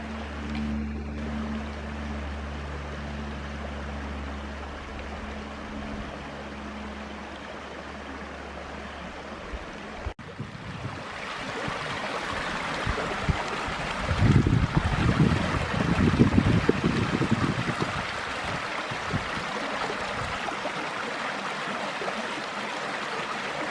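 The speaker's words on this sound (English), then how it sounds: "this little side stream has got almost as much water as the main channel does" Steady rushing water from a small side stream in Bankhead National Forest, Alabama, flows throughout, with gusts of wind buffeting the microphone partway through.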